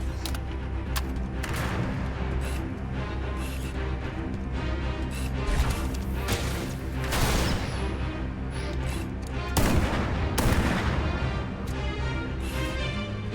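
Rapid, dense gunfire from a Halo multiplayer match, sharp repeated shots and booms layered over continuous game noise at steady loudness, with no talk.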